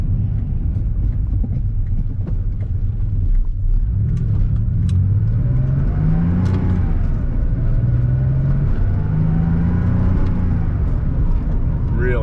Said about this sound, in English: Really nice running and driving car.